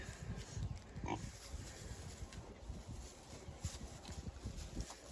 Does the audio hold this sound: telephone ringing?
no